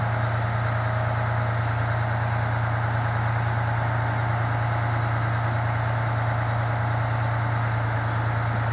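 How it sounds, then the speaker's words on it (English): A fire engine idles inside a station house at Station 27 in Middletown, Delaware, before rolling out. The diesel drone is close, steady and loud, with a strong low hum that stays unchanged throughout. "This last engine is about to roll and the house will be cleared."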